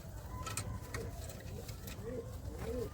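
A male black-eyed pigeon coos close by, several soft rolling coos repeating over a low background murmur.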